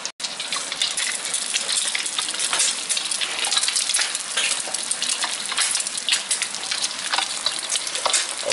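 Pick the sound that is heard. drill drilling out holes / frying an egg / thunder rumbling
frying an egg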